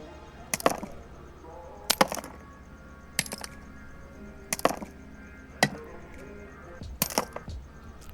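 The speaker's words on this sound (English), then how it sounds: "Okay, now we have to hit it with our hammer." In the Dinosaur Fossil Hunter game, a hammer chips plaster off a fossil in about six sharp, cracking strikes, some doubled, spaced roughly a second apart over a quiet background.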